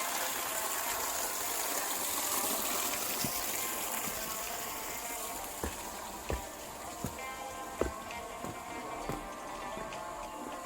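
A stream fed by a waterfall near Hunza flows in a steady broadband rush, with a few faint ticks and knocks over it and no voices.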